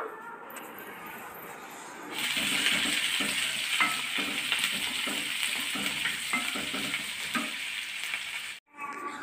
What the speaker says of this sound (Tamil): இப்போ நம்ம கட் பண்ணி வச்ச ஆனியனை போட்டுடலாம். வதக்கி விட்டுக்கலாம் கொஞ்சம்.